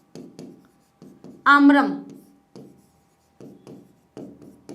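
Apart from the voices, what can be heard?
writing on a board while teaching Sanskrit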